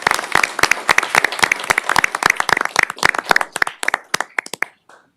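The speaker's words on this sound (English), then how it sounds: "And so a big round of applause for everybody involved with those awards." A small group at a city council meeting claps for award recipients, sharp distinct hand claps close by that thin out and stop near the end, followed by a brief silence.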